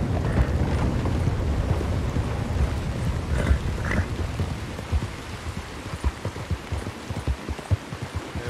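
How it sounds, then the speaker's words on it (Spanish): Heavy rain pours down during a storm in Red Dead Redemption 2, a dense, steady patter with scattered louder drops and splashes throughout, and a low rumble under the downpour. "tremenda lluviecica la que se te vino"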